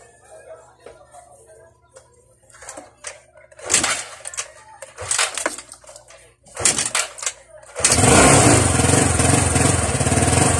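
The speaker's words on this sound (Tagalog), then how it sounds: "napaandar na natin yung motor" A Yamaha Mio Soulty scooter engine with a fuel line problem cranks with a few bursts and sputters, then catches and runs loudly and steadily up close.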